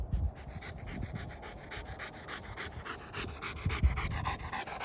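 A Rottweiler pants steadily and rapidly at close range, rhythmic quick breaths running throughout with a couple of louder huffs, no talking over it.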